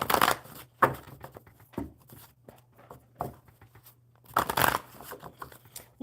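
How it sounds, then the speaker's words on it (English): Tarot cards being shuffled by hand in a few bursts of riffling and shuffling, loudest near the start and around the middle of the span, with a quiet steady hum underneath. "One more good shuffle."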